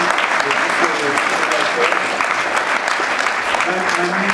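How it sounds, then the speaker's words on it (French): A festival crowd applauds at the FIFIGROT 2015 film festival closing ceremony. Loud, sustained clapping continues throughout while a voice talks over it. "On s'applaudit."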